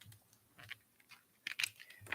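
Tarot cards shuffled by hand in short, papery riffling bursts, quiet and close, with a denser flurry of crisp snaps near the end and no talking.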